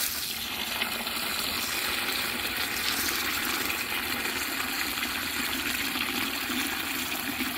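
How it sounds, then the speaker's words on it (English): Water pours steadily into a bucket as a fertilizer mix of fish and sawdust is made, a continuous gushing fill with no talk over it. "And now I'm going to add water to the bucket, about halfway full."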